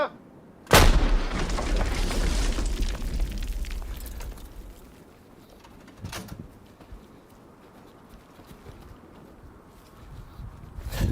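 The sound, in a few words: howitzer firing a shot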